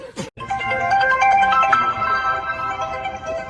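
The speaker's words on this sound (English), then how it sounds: "Do you like my new ringtone?" A phone ringtone plays a bright, tonal electronic melody of repeating beeps, loud and continuous for a few seconds after a brief click.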